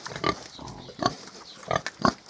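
Pigs grunt close by in short, snuffling bursts, several grunts spaced irregularly over a couple of seconds.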